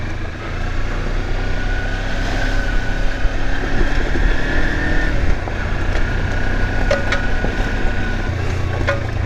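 A Kawasaki Versys X300 motorcycle tours a country back road with a steady low engine drone and constant wind rush, the note holding fairly even throughout with no speech.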